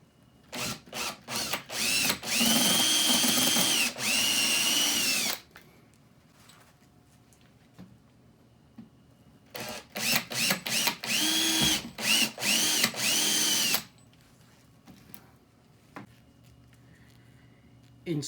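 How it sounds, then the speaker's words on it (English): Two long bursts of a power drill boring through a plastic battery box cover, each running several seconds with short stuttering starts and stops, separated by a quieter pause. "Drill a hole in the battery box cover for the emergency light."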